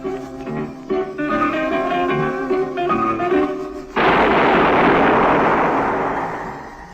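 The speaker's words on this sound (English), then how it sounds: "That was the shot that killed Harry Lime." A loud, booming gunshot cracks out in an old radio drama about Harry Lime, set in Vienna, cutting abruptly across zither music and leaving a long rumbling decay that fades away.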